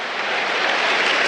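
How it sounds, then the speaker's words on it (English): A football crowd applauds a substituted player at a Coventry City versus Tottenham Hotspur EFL Cup match, a dense, even wash of clapping from a large stadium audience, loud and sustained throughout. "And Radoni getting a generous round of applause"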